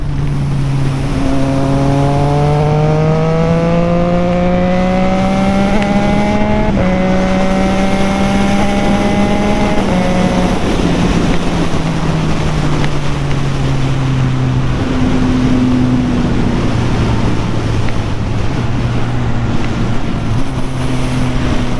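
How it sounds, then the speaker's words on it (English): Strong wind roars across a 2022 Triumph Trident 660 motorcycle riding through rural Maryland, a constant loud rush blended with the engine's steady hum as its pitch rises and falls with the throttle. "That's the only downside about this bike, is the wind."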